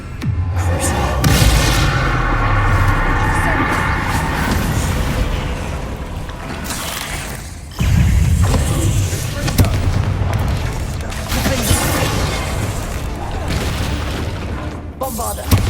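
Repeated Bombarda spell blasts in Hogwarts Legacy give loud booming explosions one after another amid dense battle noise, with a short lull before another heavy burst.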